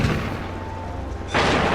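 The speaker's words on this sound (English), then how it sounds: "I've never gotten to use a cannon in this game before" Cannon fire in the fantasy game Guild Wars 2: a loud, broad blast bursts in near the end, over a steady low rumble of game ambience.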